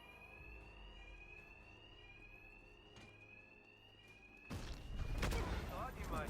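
A fire alarm rings continuously inside the Batman: Arkham Knight game, a loud steady electronic tone that persists as heavy impacts and combat noise burst in during the final seconds.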